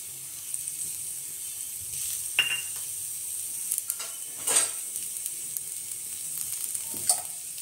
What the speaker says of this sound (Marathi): मी पहिले कांदे भाजून घेणार।